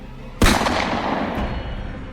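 A single loud gunshot sound effect in a Hindi audio drama about the Pahalgam attack cracks sharply, then a long rumbling reverberant tail slowly decays.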